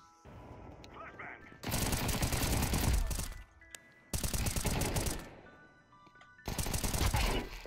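Rapid bursts of M4A1-S rifle fire in the video game Counter-Strike 2, three sustained volleys of close, dense shots separated by short pauses.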